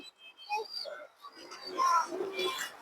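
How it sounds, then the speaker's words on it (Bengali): A female khaki pigeon gives a few soft, close coos in a short, quiet burst with no other sound around it. "মাদি কবুতর"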